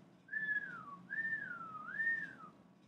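A person whistles a three-note melodic phrase of smooth sliding tones, clear and fairly close, in a quiet indoor room.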